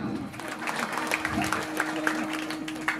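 Clapping from an audience at a Marathi kirtan, a dense, steady patter of many hands running throughout, with a sustained musical drone and some voices underneath.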